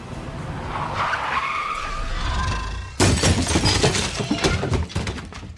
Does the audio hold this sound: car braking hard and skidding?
yes